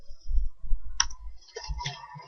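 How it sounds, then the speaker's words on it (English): Computer keyboard typing, a few soft scattered key clicks with one sharper click near the middle, close and quiet. "The text that I'm going to type here"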